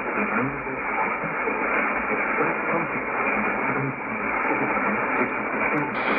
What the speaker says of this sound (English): Very weak, but this could be Voice of Vietnam in English